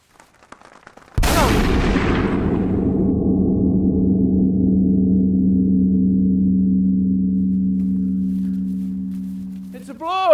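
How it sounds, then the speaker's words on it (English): One loud gunshot fired while hunting birds in a film, a sudden blast with a long booming rumble that slowly decays over several seconds, followed by a brief chirpy sound at the end. "That was a hell of a shot, son."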